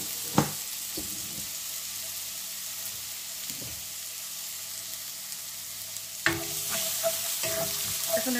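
Chopped garlic sizzles steadily in hot oil in a pan, with a few scraping stirs and a louder burst of frying toward the end, close and continuous, with no talking.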